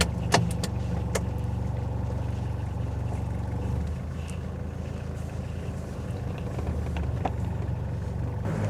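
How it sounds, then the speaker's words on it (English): A 1980s Mitsubishi Pajero 4x4 engine runs at a steady idle, a continuous low rumble heard up close, with a few sharp clicks near the start. "Starts right up every single time, even if it's been sitting for months."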